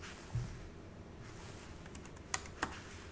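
A few faint, sparse keystrokes on a computer keyboard, typed while writing a line of code, sit as scattered soft clicks over a quiet room hum.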